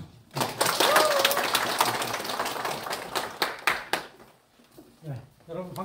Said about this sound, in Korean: 그리고 박수로 환영해 주시죠.